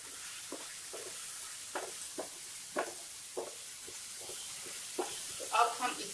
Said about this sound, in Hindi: अब हम सारे सामग्री को अच्छे से मिक्स करते हुए भूनेंगे।